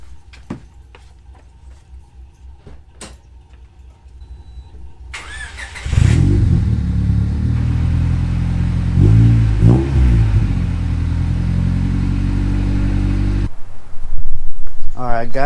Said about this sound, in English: We're getting a double cold start.